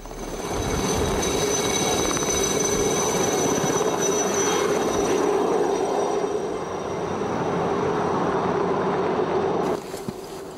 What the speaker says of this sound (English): The chopper flies up to the north face and plucks them off the mountain.